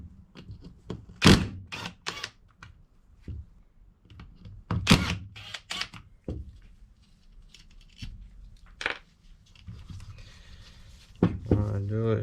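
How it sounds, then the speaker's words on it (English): On a BMW E46 M3 VANOS unit, 5mm hex bolts are undone in scattered sharp metallic clicks and clunks of the hex key, with pauses of near quiet between them and someone talking in between. "I have to undo these bolts right here"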